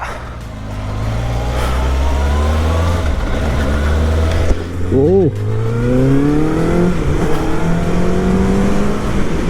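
A Kawasaki ZX-6R superbike revs on a test ride, its engine note climbing and falling in loud, sweeping pitch rises, with a brief sharp rev spike midway and someone speaking over it.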